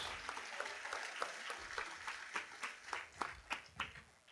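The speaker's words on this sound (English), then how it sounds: "how about a round of applause for our Everett's Auto Parts Triple Crown champions" Guests applauding the Triple Crown champions at an auto racing awards banquet, distant and fairly faint clapping with scattered distinct claps growing more pronounced toward the end.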